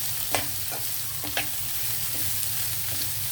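Bitter gourd frying in hot oil, a steady close sizzle with a couple of sharp pops and a light scrape of stirring, no voices.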